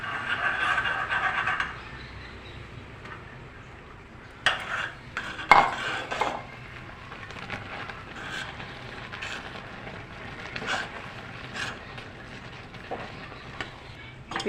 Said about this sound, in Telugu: ఇప్పుడు బియ్య పిండి ఉండలు లేకుండా కలుపుకోవాలి.